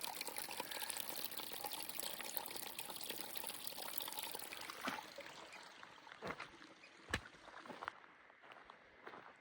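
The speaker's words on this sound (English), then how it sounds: "Got a little water fountain." Water from a small trail fountain trickles and splashes steadily, then thins into faint, scattered drips and splashes near the end; quiet and close.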